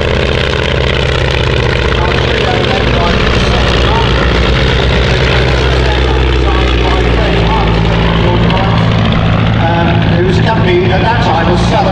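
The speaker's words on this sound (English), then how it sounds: "His crewmates in the Swordfish as they taxi to depart." Fairey Swordfish biplane taxiing at an air show with a loud, steady piston engine and propeller drone at close range, while a commentator talks over it throughout.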